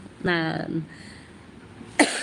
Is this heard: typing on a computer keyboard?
no